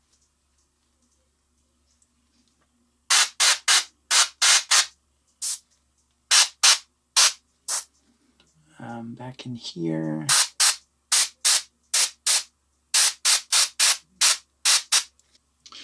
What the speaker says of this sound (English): we're gonna grab this guy and spray it down on his pants